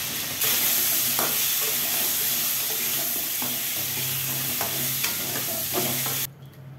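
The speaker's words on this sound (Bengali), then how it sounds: "ওইদিকে করলা আলু গাজর ভাজতে দিয়ে দিয়েছি" Bitter gourd, potato and carrot frying in a pan, a steady close sizzle with occasional stirring scrapes and clinks, running alone before cutting off near the end.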